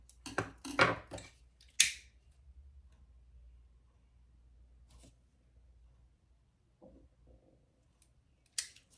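Scissors trim a small piece off a handmade holiday gift, a quick cluster of close snipping clicks followed by a sharper snip, then faint scattered taps in a quiet room.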